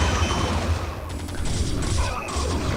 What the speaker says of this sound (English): So many tanks and so many Goliaths.